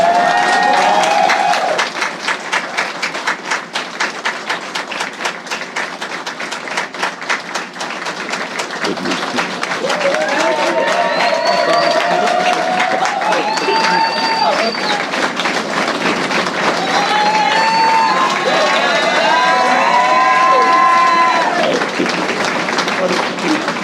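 Crowd applauding at a police graduation ceremony, dense sustained clapping and cheering filling a large hall, loud and continuous, with voices and whoops rising over it.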